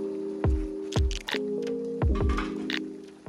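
Pasta sauce with fresh tomatoes and mushrooms being stirred in a pan, giving a few soft, wet squishing strokes close by over a steady low hum.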